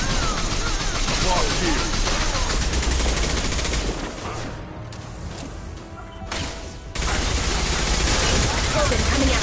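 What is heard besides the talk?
gunfire in a firefight, from the video game Mass Effect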